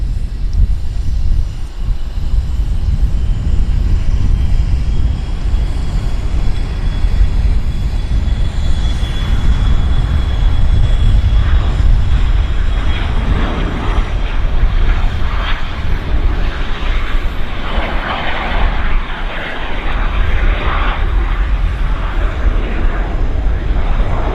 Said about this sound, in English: we've got this BizJet that's been cleared for departure right now